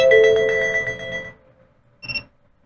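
A phone call alarm rings with a bright electronic chime tone sustained for over a second, then a short second ding after a pause, loud and close with no talking.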